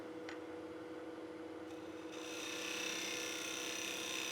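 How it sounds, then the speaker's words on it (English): Box scraper cutting into a wooden box spinning on a lathe, a steady mechanical hum with a brighter, rasping cut that grows louder partway through and holds. "I'm going to come in with my box scraper."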